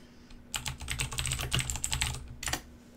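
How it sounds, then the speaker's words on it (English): Typing on a computer keyboard indoors, a quick, uneven clatter of keystrokes that runs steadily and then stops, with a low background hum and no voices. "Sorry for the typing."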